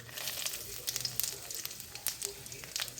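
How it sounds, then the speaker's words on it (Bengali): Cumin, dry chilli and bay leaf tempering in hot mustard oil make a faint, close sizzle with scattered small crackles and pops, no voices. "সর্ষে তেল দিয়ে দিচ্ছি। এরপর ফোড়নের জন্য জিরে, শুকনো লঙ্কা, তেজপাতা ফোড়ন দিয়ে দিলাম।"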